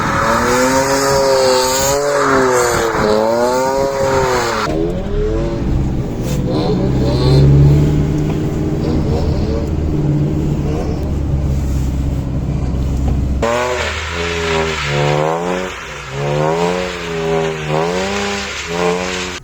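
A BMW E90 car engine revs and roars continuously at close range while driving on snow, rising and falling in pitch, with voices talking over it at times.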